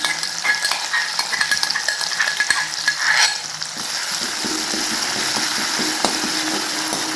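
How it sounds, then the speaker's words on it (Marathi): Green chilli, garlic and cumin thecha stirring and roasting in hot oil, a steady crackling sizzle with scraping stir strokes and light metallic clinks throughout. "तेलामध्ये हिरवी मिरची ते भाजून घ्यायचे छानपैकी"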